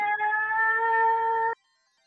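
A person's voice imitating a cat, one sustained, tonal meow lasting about a second and a half, close and fairly loud, then cut off abruptly into silence.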